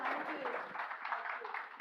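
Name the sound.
audience applause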